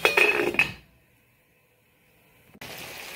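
A metal lid clanks onto a cooking pot on the stove, a short clattering burst followed by quiet and then a low steady background hiss.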